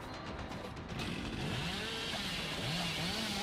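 A chainsaw from the killer in Dead by Daylight saws into a survivor, a loud, continuous revving buzz with rising and falling engine pitch running the whole time.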